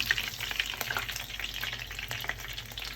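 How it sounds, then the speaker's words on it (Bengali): Cabbage and beef pakoras fry in hot oil, giving a close, steady bubbling sizzle with small pops and occasional light stirring, without any voices. "এই তো পাতাকপির বিপ চপটা হয়ে যাচ্ছে, কি সুন্দর করে দেখেন ভাজা হয়ে গিয়েছে"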